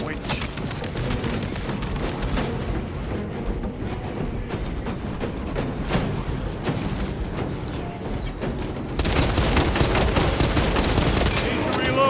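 Sustained bursts of gunfire from the video game Space Marine 2, dense and loud throughout with rapid repeated shots and a louder surge near the end, mixed with game effects.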